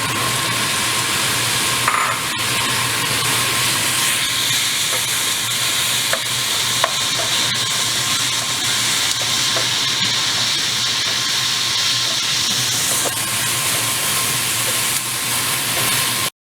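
Onions frying in a pan while being stirred, a steady close sizzle and hiss running throughout with faint scraping from the stirring, no voices.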